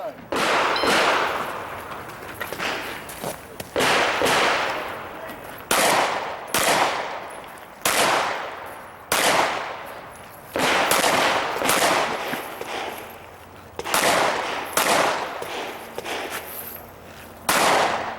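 A pistol shooter fires rapid strings of loud, close shots at an IDPA match at Mecklenburg Wildlife Club, in quick pairs and volleys broken by short pauses for movement and reloads.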